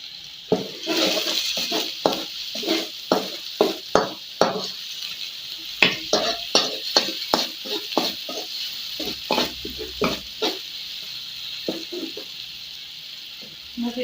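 Coriander and bird's eye chilies being stir-fried with shrimp in a pan, a steady sizzle punctuated by rhythmic scraping strokes of a spatula, close and repeated throughout.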